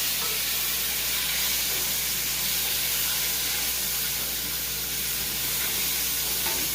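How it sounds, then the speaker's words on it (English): Steady, dense sizzling of bacon frying in a pan, a constant crackling hiss with no talk over it. "Bacon is frying up."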